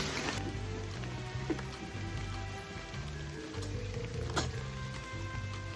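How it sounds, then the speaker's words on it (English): Steady rain falls and patters on surfaces nearby, with a few heavier drips standing out against the continuous hiss. "It's not raining as much."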